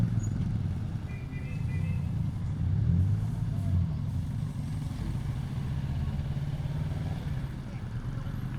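Traffic surrounds a motorcycle ride as a steady engine rumble and passing vehicles drone close by throughout, with a voice speaking over it.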